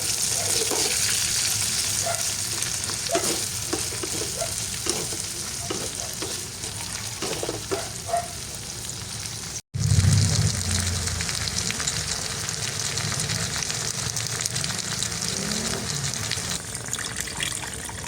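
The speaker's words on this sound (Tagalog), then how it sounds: "Nahiwa ko na po itong saging na saba, carrots, tsaka patatas. Ito po ay ipiprito ko na." Saba banana, carrot and potato pieces frying in hot oil with occasional stirring, a steady sizzle throughout with a brief break and louder bubbling burst near the middle.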